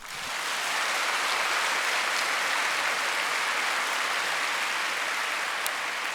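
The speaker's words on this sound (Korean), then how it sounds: "우리 장애인들과 부모님들 위해 박수를 한번 치십시오" Church congregation applauding during a Sunday service, a broad, even wash of many hands clapping at once, steady and sustained from start to finish after a quick swell.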